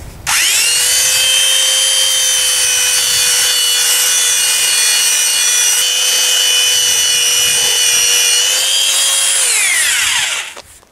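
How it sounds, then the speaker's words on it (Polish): A belt sander roughly sands a wooden axe handle in one loud, steady run that stays level for about ten seconds before spinning down, with no talking. "Przy użyciu szlifierki taśmowej z grubsza go tutaj oszlifuję"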